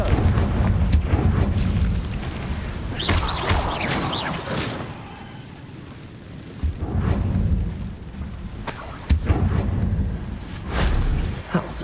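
A Confringo fire spell bursts in Hogwarts Legacy. Several loud, booming explosions come at intervals with a rumbling tail between them, and no talk is heard.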